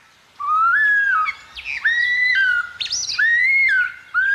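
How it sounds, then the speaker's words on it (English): A male superb lyrebird in Victoria's Dandenong Ranges forest sings loud, close whistled phrases, sweeping up and down in pitch and repeating in several bursts with short gaps between them. No voices are heard. "The superb lyrebird is a master of mimicry."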